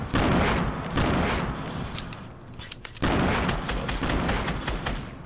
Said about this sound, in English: I'm throwing nades, let's go.